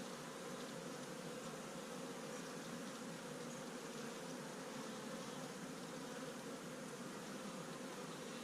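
Honey bees buzz continuously inside a winter beehive on a warm January day, a dense, even hum that stays faint and unbroken throughout.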